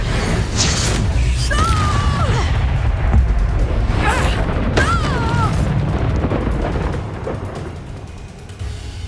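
A Confringo fire spell explodes in the video game Hogwarts Legacy, with booming, crackling blasts over a busy, steady bed of game sound, and brief tonal voice-like cries rising through the mix.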